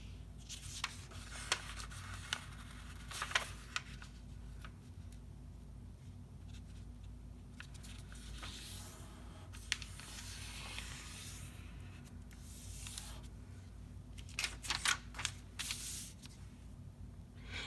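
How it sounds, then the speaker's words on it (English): A sheet of origami paper is folded and creased by hand to make a geometric heart, with soft rustles and sharp scraping crease strokes coming in bursts close up over a low steady hum. "I'm going to take this corner of the paper and fold it all the way down till it meets up with this straight edge"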